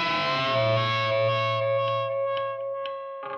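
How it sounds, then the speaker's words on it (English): Electric guitar playing a held, bent note while the tone knob sweeps back and forth, giving a wah-like filtered wobble over a sustained distorted tone, ending with a fresh strum. "I would play the notes, hold that bend, and then just go back and forth on my tone knob, it would sound like this."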